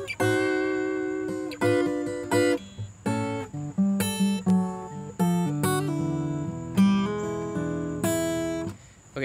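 Acoustic guitar picked with thumb and forefinger, playing a song intro in a blues style: plucked notes and ringing chords in uneven phrases, close and clear with no voice over it.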